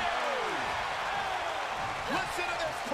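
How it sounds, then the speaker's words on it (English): A WWE 2K22 wrestling arena crowd roars steadily during a women's triple threat extreme rules championship match, a dense continuous cheer with whistles rising near the end and a commentator talking over it. "Taking a moment to get pumped off of this crowd's incredible energy."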